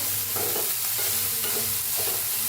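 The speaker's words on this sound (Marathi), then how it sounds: "मटकीला जरा भाजून घेऊया" Moth beans dry-roasting with a touch of oil in a pan, busy rustling and scraping from constant stirring over a dense crackle, close and continuous, with a low tonal hum beneath.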